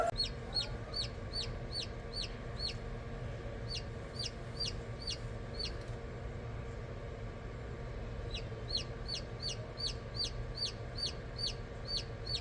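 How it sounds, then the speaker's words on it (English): A newly hatched baby chick gives rapid, high, sharp peeps in quick bursts. They stop briefly partway through and then resume, heard close over a quiet background hum, with no voices. "You see a baby chicken?"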